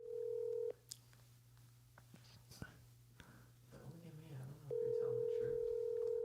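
An outgoing phone call rings, with a long steady ringback tone at the start and another near the end, separated by a quiet gap with faint whispering and small handling noises.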